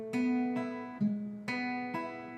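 Guitar riff, with a hammer-on, played as five evenly spaced plucked notes. The strings sound close and clean, each note bright at the attack and ringing into the next, with no talking.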